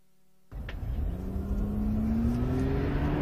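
A car drives across an intersection at 80 km/h on a test track. A sudden engine rumble comes in and its pitch climbs steadily as the car accelerates. It stays loud and continuous, with no talking.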